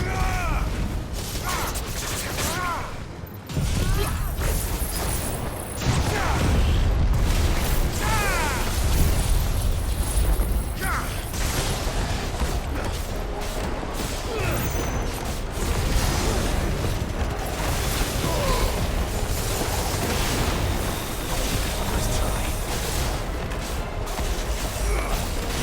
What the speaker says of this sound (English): Joshua with the fucking fire laser.